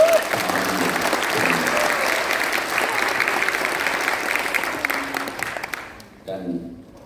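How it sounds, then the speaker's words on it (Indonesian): An indoor audience applauds at a gathering, dense, loud clapping that swells steadily then fades out near the end, with a voice briefly heard as it dies away. "Beri tepuk tangan."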